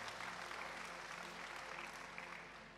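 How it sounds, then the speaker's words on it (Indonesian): A church congregation claps for Jesus in steady, dense applause that holds at an even level throughout, then begins to fade slightly near the end, with no talk over it. "Berikan tepuk tangan dong bagi Yesus kita."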